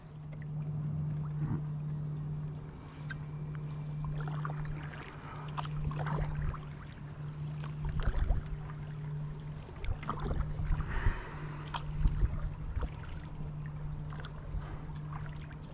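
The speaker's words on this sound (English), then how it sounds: "The trolling motor that I'm using has 5 forward and 3 reverse speeds" A Newport Kayak Series trolling motor drives a NuCanoe Flint, giving a faint steady electric whine over quiet water sounds, with light splashes and paddle-like knocks scattered throughout.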